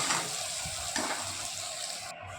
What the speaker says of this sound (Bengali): এবার আলু আর গাটি কচুটা একটু হালকা ভেজে নেব